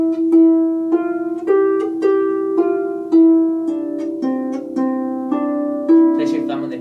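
A harp plucks a slow beginner-style measure of Ode to Joy, with about a dozen clear single notes and paired notes ringing in a steady rhythm, close and alone.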